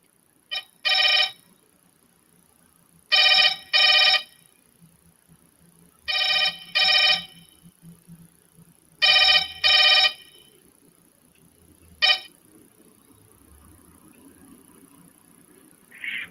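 A telephone rings on an outgoing call, with five paired bursts of ringback tone spaced evenly over a quiet line, then one short final beep.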